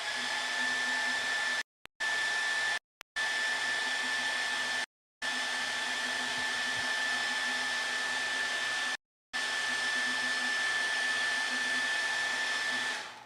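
A hair dryer blowing on a wet watercolor painting whirs loudly and steadily in several long bursts, switched off briefly four times before shutting down at the end.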